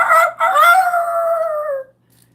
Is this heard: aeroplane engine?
no